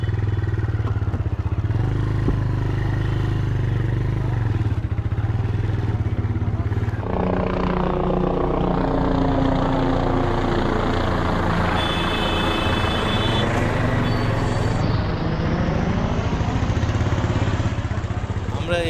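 A motorbike carries passengers along a road toward the Kumbh Mela grounds, its engine droning steadily and close, rising in revs with rattling and wind noise throughout.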